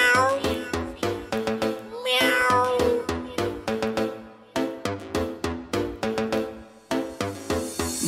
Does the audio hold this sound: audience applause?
no